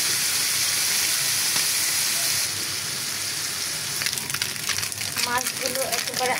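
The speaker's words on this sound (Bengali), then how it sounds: "সেগুলো এখন আমি মশমশো করে ভেজে নিব।" Fish pieces frying until crisp in hot oil, a steady close sizzle throughout with brief scraping stir sounds near the end and faint speech.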